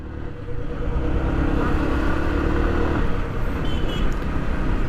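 A Yamaha R15 V3 sport motorcycle riding along the road, its engine droning steadily with wind rush, close and fairly loud, with no talking.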